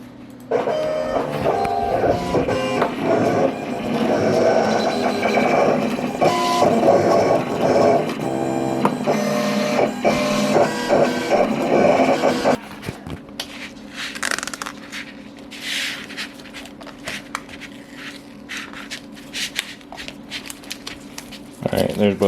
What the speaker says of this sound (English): we got all the decals printed